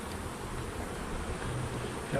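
Honeybees buzz steadily around an opened hive box during a fall honey harvest, a close, continuous drone with no clear speech over it.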